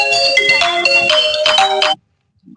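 A phone ringtone plays loudly in a steady melodic loop for about two seconds, then stops abruptly with the call unanswered, leaving near silence with a faint stray sound at the end.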